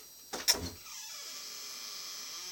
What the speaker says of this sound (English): you're hearing a door open right now